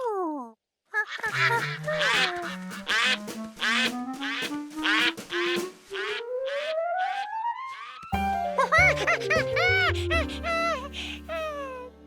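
Cartoon ducks quacking in a quick run of bright, nasal calls over a steadily rising whistle-like tone, then a denser chorus of overlapping honks and quacks, loud and close.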